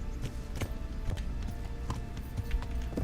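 Horse hooves clip-clopping in the video game Kingdom Come: Deliverance, a steady rhythmic trot of soft thuds heard fairly quietly with no talk.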